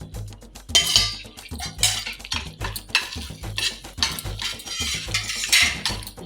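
Spoon repeatedly scraping and clanking in a pan of spiced paneer curry masala, a steady rhythmic stirring with metallic clinks, close and fairly loud with no talking.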